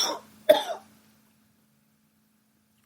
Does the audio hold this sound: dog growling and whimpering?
no